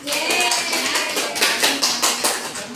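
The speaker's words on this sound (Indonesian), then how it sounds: "tepuk tangan untuk Eka" In a classroom teaching practice session, a group claps for a student named Eka, a thick, moderately loud patter of many hands with slight surges, no talking on top.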